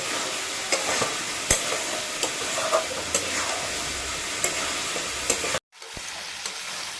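Mutton pieces sautéed and stirred in a wok, a steady close sizzle with sharp scraping clicks from the spatula recurring every second or so, ending in a brief drop to silence before the frying resumes.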